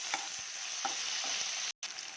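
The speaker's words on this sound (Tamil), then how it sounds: "கருவேப்பிலை, வெங்காயம் போட்டது இது நல்லா வதங்கிட்டோம்." Steady sizzling of onions and curry leaves frying in hot oil, with a few soft clinks of stirring scattered through and one brief drop-out near the end.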